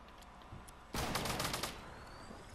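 A sudden burst of rapid gunfire erupts at close range in a battle royale match, crackling for under a second and then trailing off into quieter background noise.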